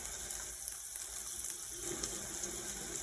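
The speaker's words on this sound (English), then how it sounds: "So the next thing we want to do is drain our potatoes extremely well" Water being drained from a pot of boiled potatoes, a steady broad rushing pour that continues unbroken and fairly close throughout, with no talking.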